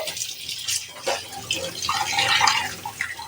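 Water is splashed and poured over an iron kadai (wok) during washing, with uneven sloshing and dribbling bursts of liquid against metal. The sound is close and fairly loud, with no talking.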